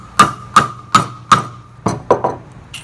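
A Subaru caliper bracket from a BWC Fabrications ATS kit is tapped into place with seven sharp metallic hammer knocks. The first four come at a regular pace, then three quicker, slightly softer taps follow, all close and loud.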